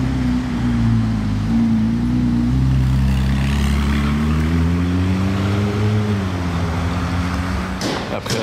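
A Ferrari 296 passes close by in Monaco, its engine drone rising and falling steadily before the exhaust valves open with a sharper, louder burst near the end, with people talking over it.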